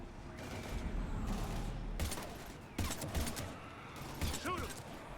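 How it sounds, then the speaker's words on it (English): Heavy weapon fire in the Mass Effect 3 video game during a fight against husks: several sharp, loud shots and bursts at irregular intervals over a constant combat rumble, with faint voices in the mix. "We're taking heavy fire."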